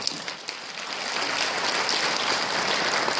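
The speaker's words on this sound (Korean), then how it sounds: "여러분 박수 한번 보내주십시오." Audience applause from a seated crowd at a health product business talk, rising from scattered claps into a steady dense patter that holds evenly to the end, with no talk.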